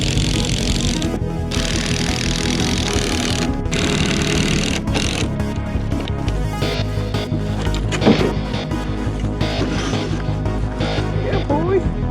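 A power drill drives screws into a wooden mountain-bike kicker ramp with a loud, whining motor that starts, stops and restarts in bursts. A person talks over it.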